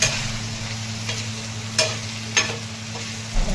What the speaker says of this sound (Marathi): तर पटकन शिजणारे बटाटे. हे बटाटे शिजत आलेले.